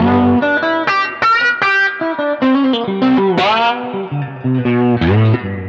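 Guitar notes and short chords pass through a modulation pedal with its flanger blend turned down, giving a milder swirl over clean, distinct picked tones, played alone without voices.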